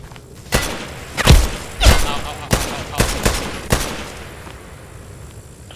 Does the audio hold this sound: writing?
no